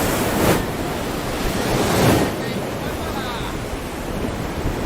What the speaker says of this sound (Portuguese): o dia estava de mar bastante agitado, com correntes fortes